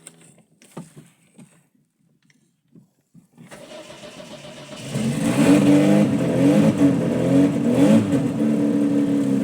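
Quiet clicks and taps lead into a 1.3 litre petrol car engine with a geared starter cranking and catching, then settling into a steady, loud idle with a low rhythmic hum.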